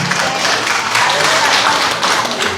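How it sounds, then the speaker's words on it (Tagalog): Applause from a congregation at a Sunday worship service in a London church, a dense burst of many hands clapping close and loud, filling the whole moment. "May palakpak po natin ang bawang isa."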